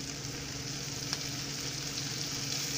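Butter sizzling and browning in a pan with a dab of oil, a steady close crackling hiss with no talk.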